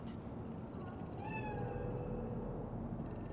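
A cat in the video game Cyberpunk 2077 lets out one drawn-out meow, fairly faint and partly buried in a steady, noisy background rumble, with no talking.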